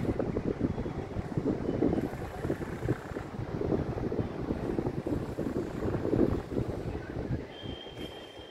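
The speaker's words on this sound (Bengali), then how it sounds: "প্রচণ্ড হাওয়া চলছে।" Strong wind roars and buffets the microphone in continuous gusts at a 35th-floor flat, a rough, low rumble throughout.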